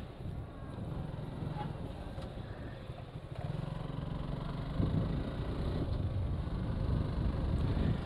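A Suzuki Gixxer motorcycle rides along the airport bypass road in Jessore, its engine giving a steady, close, continuous rumble mixed with wind and road noise throughout.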